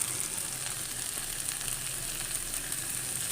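Diced medium carrot, onion and capsicum sauté in a pan with a steady, even sizzle, a soft, constant hiss that stays unbroken throughout, heard alone.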